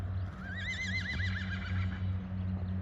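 A grey mare whinnies in a rising, wavering neigh that trails off, heard at moderate distance over a low steady hum and faint hoof thuds.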